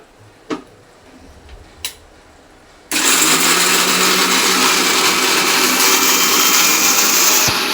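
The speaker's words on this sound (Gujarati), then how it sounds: "તેને મિક્સરમાં પીસી લઈશું" A few faint clicks come first, then a mixer grinder starts abruptly and runs loud and continuous, pulverising a chavanu snack mix for several seconds.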